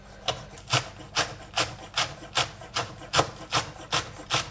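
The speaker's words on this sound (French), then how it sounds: "Je vais hacher toute la partie verte." Knife chopping the green parts of spring onions on a cutting board in a steady, even rhythm of about two strokes per second, each a short scraping thud, close and moderately loud.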